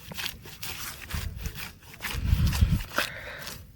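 Plants are being cut by hand beside a rice paddy, giving rough rasping, scraping strokes at close range, with heavier chopping bursts near the end.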